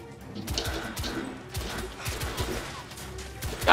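Gunfire in the video game The Order: 1886, a series of sharp repeated shots with crashing impacts at irregular intervals, fairly close, ending in a louder burst.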